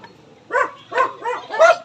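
Dog barking in a short burst of four quick barks, fairly close and alone, over a quiet background.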